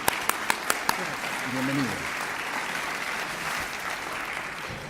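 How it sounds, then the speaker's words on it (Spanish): Audience applause welcoming an engineer to the stage at a nanoparticle science talk: a few sharp claps first, then a steady, moderately distant wash of clapping with a voice briefly over it. "Recibimos con un aplauso al ingeniero Jackson Henry Atoche Medrano"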